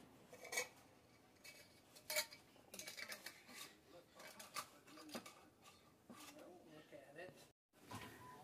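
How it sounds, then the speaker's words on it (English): Glass canning jars clink and clatter as they are set one after another into a pressure canner for home meat canning, a run of sharp close knocks under low background noise. "And now we'll put them in the pressure canner."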